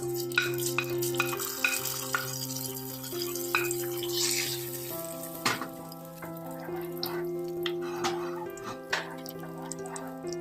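Tempering being poured into Tamil Nadu-style Nombu Kanji, a Ramadan rice porridge, followed by soft simmering and spoon stirring in the pot, with scattered clinks and scraping over a low hum, no voices.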